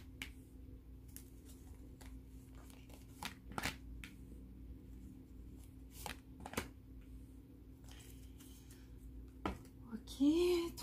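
Angel oracle cards being shuffled by hand in a quiet room, a soft papery riffle with scattered sharp card snaps and flicks, faint and close, with a brief voice-like sound near the end.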